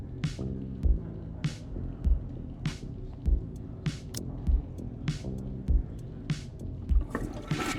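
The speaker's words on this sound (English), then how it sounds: "I always forget to flush." A toilet flush in the video game Back To The Dawn, heard as a repeating, rhythmic pattern of short watery swooshes with low throbbing thumps between them, all over a steady background hum.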